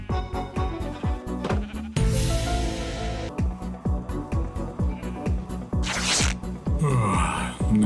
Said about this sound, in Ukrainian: І залишилося привезти сюди овець.